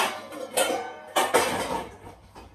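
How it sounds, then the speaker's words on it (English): A kitchen mixing bowl is pulled out and handled, giving several clattering knocks and clinks of dishware at close range, in uneven bursts with short pauses, no talking. "getting another mixing bowl"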